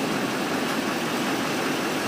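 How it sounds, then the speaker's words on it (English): A 2014-or-later Chevy Silverado idles after a remote start, giving a low, even engine hum that stays steady and moderately close with no speech over it. "The engine will run for 20 minutes."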